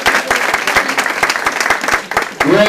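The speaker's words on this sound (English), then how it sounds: "Give yourselves a round of applause" An audience of grandparents breaks into steady applause at a recognition event, dense clapping that holds loud for nearly three seconds with a brief dip before swelling again.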